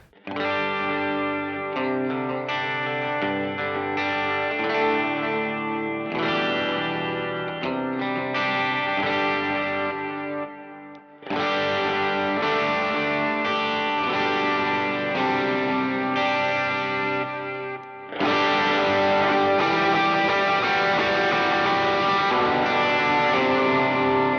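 An electric guitar plays heavily distorted, chorus-tinged chords through a Line 6 HX Stomp and Strymon Iridium with dual drive settings, in three sustained passages separated by brief breaks.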